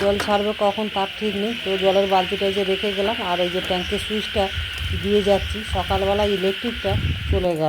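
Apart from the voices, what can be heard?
crickets chirping in rainy evening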